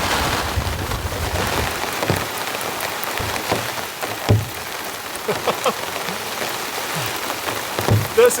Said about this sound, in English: This is a deluge, full blown.